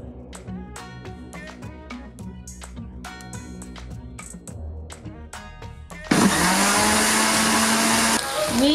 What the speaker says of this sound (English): so I can give the blender something to blend.